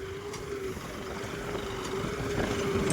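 A John Deere 5210 tractor pulls a cultivator through hard soil in Madhya Pradesh, its diesel engine holding a steady, moderately loud drone that swells slightly toward the end.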